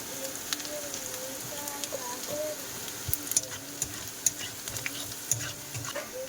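Garlic, chopped onion and black cumin frying in a pan, with a steady close sizzle and crackle broken by scattered clicks and scrapes of stirring, and a voice faintly underneath.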